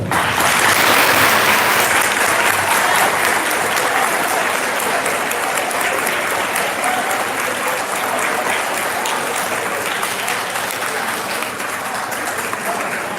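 A school audience at an 8th grade awards ceremony breaks into sustained, dense applause. It stays loud and even for over ten seconds with faint crowd murmur underneath.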